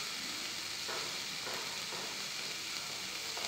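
Onion, garlic and green chili fry together in a pan, giving an even, soft hissing sizzle that holds steady and faint without any talk.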